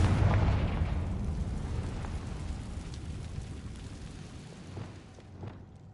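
An explosion from the Confringo spell in the Hogwarts Legacy video game: a loud, low boom at the start that fades into a long rumbling decay, with a few faint pops later and no talking.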